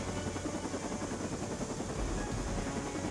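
Helicopter in the superhero tactics game Marvel's Midnight Suns, a steady rotor drone with a fast rhythmic chop, constant and fairly close, running throughout without pause.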